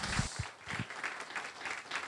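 Applause from a church audience welcoming a preacher, a steady, fairly faint patter of many hands clapping that runs for about two seconds with no talking over it.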